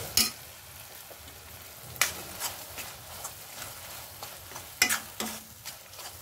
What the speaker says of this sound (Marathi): तेल सुटेपर्यंत आपल्याला परतवायचं आहे।